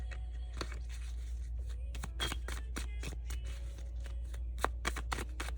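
Tarot cards shuffled by hand, a run of quick crisp riffling snaps and soft slides, close and fairly quiet over a low steady hum, with no talking.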